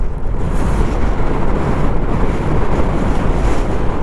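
Strong wind roars and buffets the microphone during a motorcycle ride in Ladakh at full throttle, a loud, continuous rush without a break and no voices.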